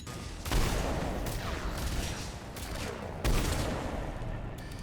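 A big gun fires in Mass Effect 3 (Legendary Edition) during combat. Dense, sustained bursts of rapid gunfire blaze loudly and continuously, with brief gaps between volleys.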